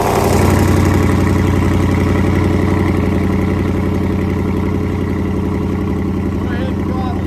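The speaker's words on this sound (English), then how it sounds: "I'm gonna have him open the dumps while this thing's running so we can see what it sounds like" A 2012 Dodge SRT Challenger idles with its electric exhaust cutouts opened, a steady, loud, deep burbling rumble that holds throughout, with a voice talking briefly near the start.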